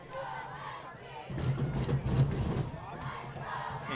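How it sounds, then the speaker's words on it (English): Crowd at a high school football game under the Friday night lights: a swelling roar of cheering and shouting rises midway and lingers as a broad, moderately distant din with indistinct voices. "Pretty good crowd on hand tonight."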